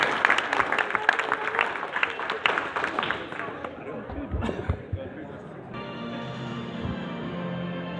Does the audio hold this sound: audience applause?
yes